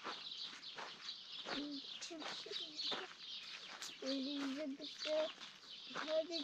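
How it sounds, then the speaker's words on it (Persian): Birds sing in a mountain village in Afghanistan, with short tonal calls recurring through the clip, clearest in the second half, over a steady outdoor hiss and likely some speech. "صدای پرنده را خود میشنوین"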